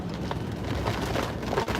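Steady rain falls outdoors during a hurricane, a dense even patter with scattered louder drops and no talk.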